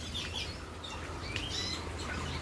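Small birds in an aviary chirp and tweet in quick, scattered calls, faint to moderate against a soft background hum.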